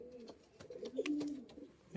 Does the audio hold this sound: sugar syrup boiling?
no